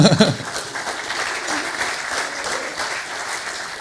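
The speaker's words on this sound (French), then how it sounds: "Qu'on peut aussi applaudir, il n'y a pas de raison." Audience applause for seminar speakers at the close of a geolocation seminar, dense clapping from a room of listeners that starts with a loud burst and stays steady, with a few voices mixed faintly underneath.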